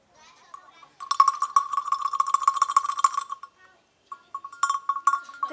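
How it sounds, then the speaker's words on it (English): A cowbell rings in a children's storytelling session, a fast run of bright metallic clanks lasting a couple of seconds, then a short pause and a second burst, close and fairly loud. "The cow bell, the cow's bell."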